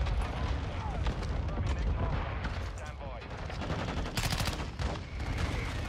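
Shotgun blasts crack out repeatedly in a Call of Duty MW2 match, mixed with other gunfire and explosive bursts, fairly faint and dense, while a voice talks over the action.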